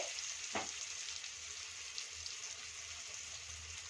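Ridge gourd frying with turmeric in a pan gives a steady close sizzle throughout, with a brief stir or scrape early on and no one talking.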